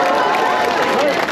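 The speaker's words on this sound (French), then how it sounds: "un tonnerre d'applaudissements pour eux encore" At an outdoor rally in support of the police, a big crowd claps and cheers in a thick, continuous roar that stays loud and steady from start to finish.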